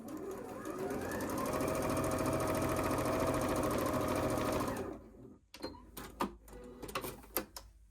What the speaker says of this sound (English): now we're going to sew a 1/4 inch down that side